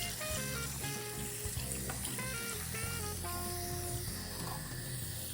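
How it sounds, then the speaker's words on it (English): Cold water running from a kitchen tap into a pan, a steady close rushing splash that holds without a break, with faint music or voices behind it. "now I'm just gonna turn my cold water on and fill my pan."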